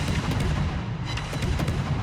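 Naval guns in a warship video game fire a dense barrage of shells, heavy booming blasts overlapping one after another at close range with no pauses.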